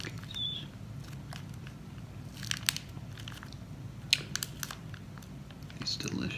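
Biting and crunching vanilla-dipped Chicky cookies close to the microphone, a series of sharp crisp crunches and chewing scattered over steady low background noise, with no talking.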